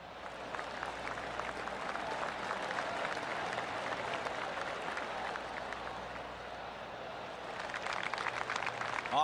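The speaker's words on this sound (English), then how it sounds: "I can hear the golf claps around the course." Golf crowd in PGA TOUR 2K25 giving a spread-out round of soft clapping around the course, a steady patter of many hands that swells slightly near the end.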